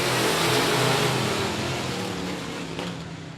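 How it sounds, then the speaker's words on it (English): Late model race cars revving their engines at I-37 Speedway before a green flag start, a loud, dense, continuous roar that fades slightly, with no talk. "Nagalitos Gear late models. Revving up the engines."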